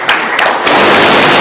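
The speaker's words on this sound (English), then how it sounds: "I think they're cheering for you." A crowd cheers and claps at a formal launch of the End Malaria Council: a few separate claps at first, then dense, loud, sustained applause and cheering filling the rest of the clip.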